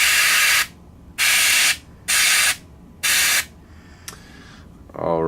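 Airbrush hissing out paint over gritty sand on flagstone miniature bases, in four steady bursts of about half a second each, then a short click and a faint hiss.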